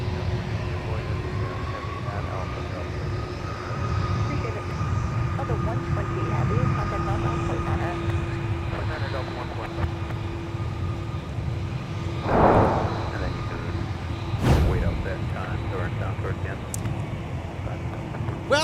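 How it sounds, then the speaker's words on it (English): A Delta Airbus A330 heavy jet departs MSP airport bound for Dublin: a distant, steady low engine roar with a faint whine fills the background while someone talks over it, with a couple of sharp clicks near the end. "looks like we'll get an extra helping of A330 to close out our broadcast tonight. This is Delta 258 Heavy off to Dublin, Ireland."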